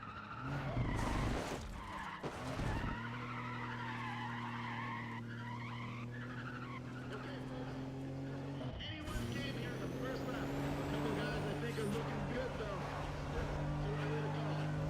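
Ford Mondeo V6 engine in Need for Speed: Pro Street, a steady droning engine note that climbs and shifts through gears, with loud tire skids and screeches near the start and again around the middle.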